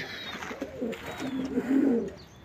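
Pigeons coo in a nest where a hen sits on eggs, giving soft low, rolling calls repeated several times close by over faint background noise.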